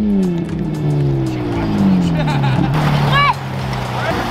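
An air-cooled Volkswagen Beetle engine fitted with an F1-style exhaust runs loud and close, its harmonic drone rising and falling with revs, while excited voices talk over it.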